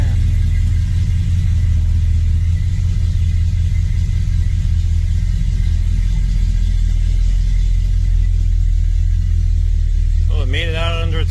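A Chevrolet S10 truck with a straight axle conversion and a new TCI transmission drives out under its own power, a loud, steady low engine rumble throughout, with a voice near the end.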